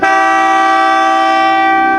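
A loud, sustained electric horn blares in one continuous tone for about two seconds, close and steady, with no talking.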